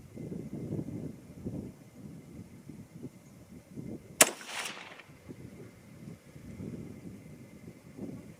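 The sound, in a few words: rifle shot from a 6mm ARC rifle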